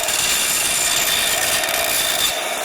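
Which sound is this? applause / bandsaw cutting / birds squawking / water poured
bandsaw cutting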